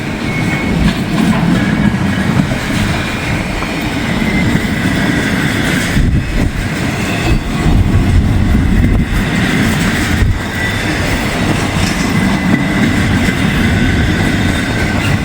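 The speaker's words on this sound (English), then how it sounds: "These intermodal trains tend to be longer during the holiday season." A long intermodal freight train rolls past close by in the wet after a thunderstorm, a loud, steady rumble and clatter of wheels on rail that holds for the whole stretch with faint squeals over it.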